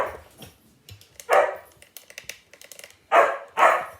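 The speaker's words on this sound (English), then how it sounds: "he's gonna bark like a crazy man now" A dog in a home kitchen barks in sharp, close bursts, a few scattered yips followed by two loud barks near the end, with light clatter between.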